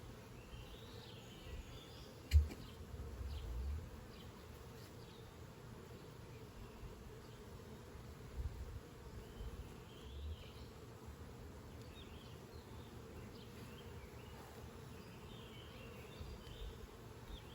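Honey bees hum softly and continuously around an open hive during an inspection, a faint close buzz with a brief louder thump near the start.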